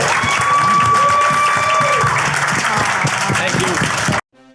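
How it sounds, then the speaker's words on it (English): A horror convention panel audience applauds and cheers for a film's cast and crew, giving dense, loud clapping with voices rising under it, then cutting off abruptly. "one more round of applause for the cast and crew of Stream,"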